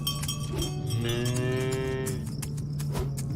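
A cow moos once in the farming video game Farm Together, a single drawn-out, clear low moo lasting about a second, heard over a steady farm background hum with no talk.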